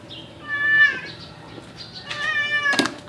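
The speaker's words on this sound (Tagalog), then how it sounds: "Mag-upisa na kami na paliguan yung pusa ko na si Snoopy." A cat meows loudly while being bathed, giving two drawn-out, strained cries close by, with a brief sharp splash or knock near the end.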